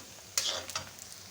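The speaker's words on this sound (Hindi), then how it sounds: "हल्की गोल्डन हो गई है और ये मैं ज़ीरा डाल रही हूँ 1 चमचा।" Onions frying in oil in a home kitchen as a spoonful of cumin seeds goes in, giving a soft crackling sizzle with a brief stir or clink, close and without talk.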